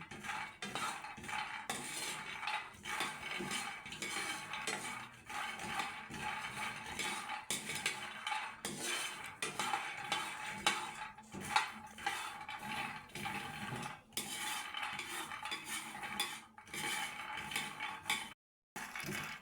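Peanuts frying and being stirred in a pan for a homemade peanut snack, heard as continuous close scraping, clinking and rattling of nuts against metal in uneven rhythm, with a short gap near the end and no talk.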